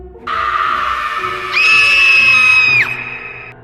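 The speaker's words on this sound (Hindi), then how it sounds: "दर्दनाक चीखों की आवाज़ सुनकर राहुल की नींद खुलती है।" Painful screaming in a horror story at midnight: one long, loud, piercing cry that climbs higher and holds near the middle, then drops away, with no other voices.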